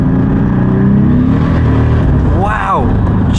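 A turbocharged BMW fitted with a Mercedes engine, about 560 bhp, accelerates hard with a loud continuous engine drone from inside the cabin, pitch sweeping upward as it pulls through a gear, with some talk mixed in.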